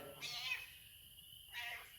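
A pet cat named Sonic meows twice indoors, two short close cries separated by a pause, over a faint room background.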